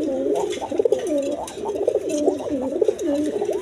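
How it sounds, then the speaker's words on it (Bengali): Close pigeons of a high-flying breed coo in a steady stream of soft, rolling, repeated calls that overlap throughout, with light background noise. "দেখেন হাই ফ্লাইং কবুতর, একদম কোয়ালিটি সম্পন্ন কবুতর"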